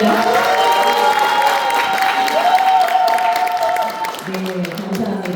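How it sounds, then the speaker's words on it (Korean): Audience applause and cheering open a lecture event, a loud crowd of clapping hands mixed with whoops and shouts that thins after a few seconds. "박수 부탁드립니다."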